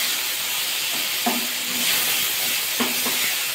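Tomatoes cook down in a pan for a mixed fruit chutney under a steady loud hiss of steam and simmering. A couple of brief stirring scrapes are heard close by.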